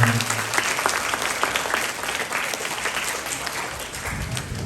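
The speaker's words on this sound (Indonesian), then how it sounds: "Kasih tepuk tangan dulu temannya" Students in an Islamic boarding school classroom give a classmate a round of applause: continuous, fairly close clapping from a group that holds steady and then thins slightly near the end.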